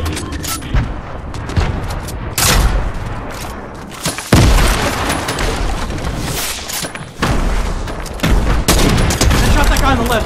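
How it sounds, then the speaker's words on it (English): Fortnite gunfire in rapid bursts, loud and dense, with booming blasts and chattering automatic fire overlapping throughout and a player's voice faintly underneath. "I shot that guy on the left"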